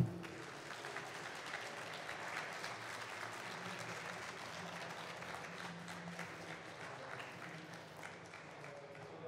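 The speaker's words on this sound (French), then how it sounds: "peut-être en applaudissant monsieur Mark Waid" A conference audience claps continuously, a broad even roar of applause from a large room, with faint murmuring beneath and a slight swell near the end.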